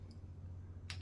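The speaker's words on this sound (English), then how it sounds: "I'm going to open it up. You can hear some clicks." A plastic cap on an Ensure Clear bottle gives a couple of faint, sharp clicks as it is twisted open. One small tick comes first and a louder snap follows, over a quiet room hum.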